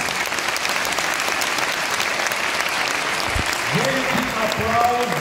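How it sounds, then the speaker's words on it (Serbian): A concert audience at a children's philharmonic applauds an eight-year-old boy violinist with sustained, full-room clapping, and a voice speaks over the end of it. "veliki aplauz za divnog dečaka, a velikog profesionalca, violinistu Mihajla Marijanovića"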